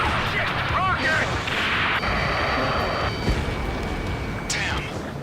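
A rocket explodes in the combat flight game Ace Combat 7, a loud blast rolling into sustained rumbling amid jet noise, with radio voices talking over the action.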